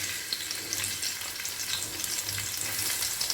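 Tomatoes and onions fry together in a hot pan for a chicken liver curry, giving a soft, even crackling sizzle with faint stirring scrapes throughout.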